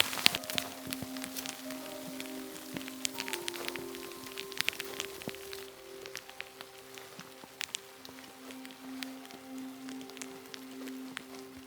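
Rain falls steadily during a solo camping trip in a thunderstorm, a dense close patter of drops on a surface running throughout with no one speaking.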